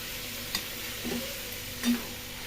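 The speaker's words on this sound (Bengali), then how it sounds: "ভালো কষিয়ে নিই।" Potato curry being sautéed in a pan, a low steady sizzle with a few soft stirring scrapes, close and fairly quiet with no one talking.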